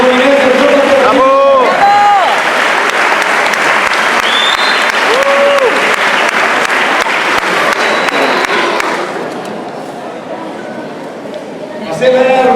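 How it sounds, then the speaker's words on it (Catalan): Loud, sustained applause from an audience at a municipal sports awards ceremony in Tavernes, with brief cheers and voices over it, fading after about nine seconds before clapping swells again. "Gràcies, un aplaudiment."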